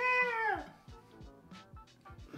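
A live metal singer's voice at Wembley Arena producing a short cat-like meow, a falling wail followed by softer rhythmic thumps, fairly faint; the voice imitates a cat.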